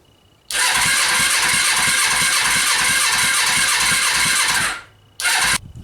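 A Suzuki GS500 motorcycle engine under repair fires up close by, cranking into a loud, rough, pulsing run for several seconds, cutting out, then catching again briefly.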